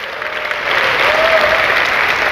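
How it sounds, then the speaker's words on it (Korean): Audience applause at a seminar talk, a steady wash of clapping from a crowd that swells after a half second and holds evenly, close and fairly loud, with no talk over it. "꼭 하시겠다는 박수 한번 쳐주세요."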